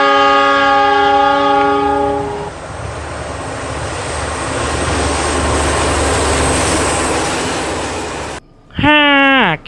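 A train horn blasts loudly in a sustained multi-tone chord over the roar of a passing train, then cuts off, leaving a steady rumbling rush of rail noise before a brief pitch-bending tone at the end.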